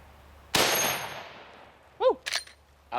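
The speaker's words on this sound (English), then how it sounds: "This is a faster bullet, 325 grains. Looks like a little missile out of this 4570." A 45-70 rifle fires a 325-grain bullet at a titanium sheet, giving one loud, sharp crack with a long decaying echo, followed by brief close voices.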